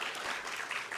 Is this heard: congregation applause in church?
yes